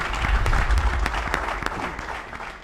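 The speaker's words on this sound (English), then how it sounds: "our applause for a great effort." Studio audience applauds a competing team on a game show, a dense burst of clapping with sharp individual claps standing out, loudest early and easing off slightly toward the end.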